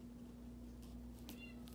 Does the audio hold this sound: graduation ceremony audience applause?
no